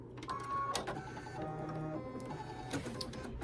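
An embroidery sewing machine stitching a ghost peek-a-boo treat bag runs with a steady mechanical hum and a fast repetitive stitching rattle, close and continuous, with no talking.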